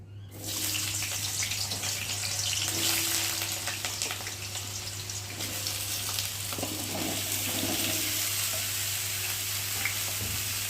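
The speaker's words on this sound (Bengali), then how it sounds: "এই যে আলুগুলোকে দিয়ে আমি ভালো করে ভেজে নেব" Potatoes fry in oil that sizzles and crackles steadily close by, with occasional stirring scrapes over a constant low hum.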